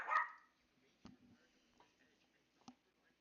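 A dog barks once, short and fairly close, at the very start, followed by quiet room tone with a few faint ticks and small knocks.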